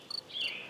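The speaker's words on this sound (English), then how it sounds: "there's the cricket sound" A cricket chirps through a parabolic microphone outdoors, a few quick pulses followed by a sustained high trill, faint against a quiet background.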